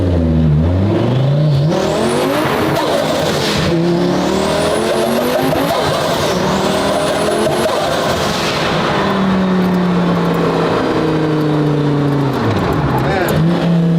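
A Lamborghini-style sports car engine revs hard from the passenger seat, repeated rising and falling sweeps as it accelerates through gears, loud and close, with the exhaust roar continuous throughout.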